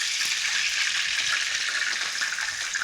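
A pork katsu cutlet fries in hot oil after being flipped, giving a steady, loud, close sizzle and bubbling crackle that runs throughout, with no voices.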